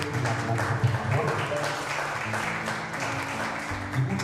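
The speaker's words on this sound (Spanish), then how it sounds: "Un aplauso, por favor." Applause from an audience at a book presentation, steady moderate clapping lasting several seconds, with a low hum and some tonal background underneath.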